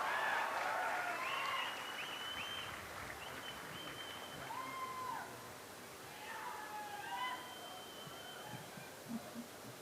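An outdoor college-ground audience applauds to welcome a speaker, a broad wash of clapping strongest at the start and fading into crowd noise, with whistles and cheers rising and falling over it.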